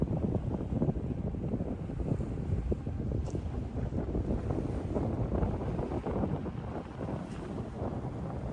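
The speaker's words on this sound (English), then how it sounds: "breeze is so chilly." Steady wind rushes and buffets across a microphone aboard a lone sailboat in Trollfjorden, a short, steep fjord in northern Norway beneath snowy peaks, a continuous low roar with faint water movement underneath and no voices.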